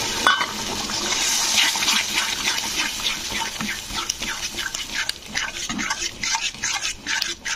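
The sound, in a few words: water poured into the pan of masala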